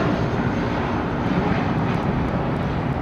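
An airplane departing Heathrow, a loud, steady engine roar that fills the whole span without a break or any voices.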